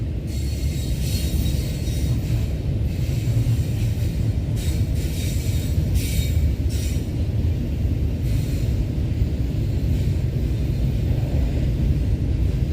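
A freight train with a distributed power unit rolls past nearby, a continuous low rumble with clanking, ratcheting wheel and coupler noise and periodic bright squeals.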